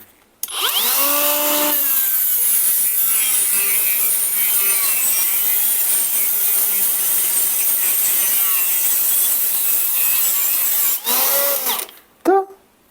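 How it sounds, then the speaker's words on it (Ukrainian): A Stromo AGA 150 cordless angle grinder whines loudly and steadily for about ten seconds, its pitch wavering as it grinds rust off metal, then cuts off and briefly restarts. "А тепер давайте попробуємо, як воно шліфує іржу."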